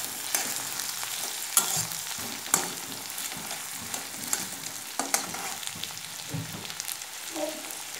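Chopped onion and tomato fry together in a pan for shrimp curry with potatoes and eggplant, giving a steady close crackling sizzle with occasional louder pops and stirring scrapes throughout.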